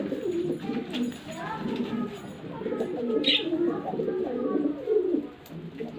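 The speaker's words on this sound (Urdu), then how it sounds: "یہ جو ہے یہ شیرازی کبوتر ہے جو آپ کے سامنے یہ ریڈ کلر میں ہے" A red Shirazi pigeon on a Pakistani pigeon farm gives soft, repeated cooing close by. Someone talks over it throughout.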